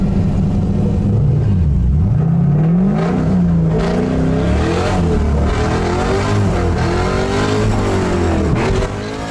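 An LS V8-swapped Mazda Miata runs hard on an oval track, its engine roaring close and loud as it revs up and shifts. Pitch rises and drops repeatedly through the gears under continuous throttle.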